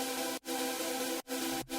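Wavetable synth chords voiced with noise unison rather than classic detuning, three sustained bright chords separated by short silent breaks, loud and alone without speech.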